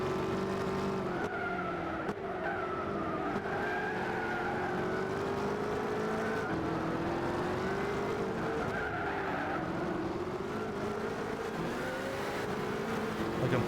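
A race car in Gran Turismo 6 drones loudly and steadily, its engine pitch rising and falling through gear changes while the tyres squeal and skid through corners.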